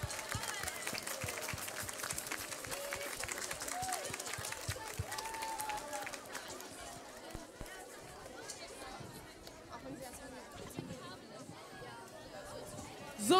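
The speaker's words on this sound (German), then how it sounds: "da möchte ich bitte einen ganz, ganz großen Applaus für die Saxophonistin Liv" Audience applause for a female saxophone soloist at a big band concert: moderately distant, dense clapping mixed with crowd chatter, thinning out after about six seconds into scattered claps and murmuring voices.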